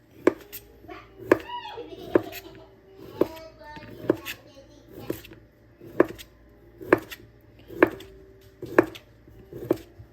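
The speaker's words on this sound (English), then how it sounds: "I know some people cut the sausages different" Sausages being chopped with a knife on a board for gumbo: sharp, evenly spaced chops land about once a second, close and clear, with a brief voice near the start.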